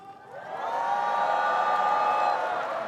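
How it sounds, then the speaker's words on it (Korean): A large crowd in an open plaza at a national Liberation Day ceremony lets out a sustained roar of cheering that swells after a brief start and holds steady, loud and unbroken. "자, 함성 한번 질러볼까요?"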